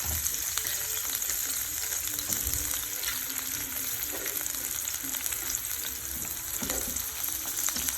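Onions sizzle steadily in a pan over medium heat, a continuous close frying hiss with occasional stirring scrapes and crackles throughout.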